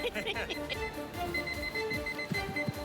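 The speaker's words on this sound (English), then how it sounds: "So 5 minutes, my timer goes off." A kitchen timer alarm rings faintly in a busy cooking-competition kitchen full of clocks and timers. Its repeated beeping sits under people talking and general kitchen clatter.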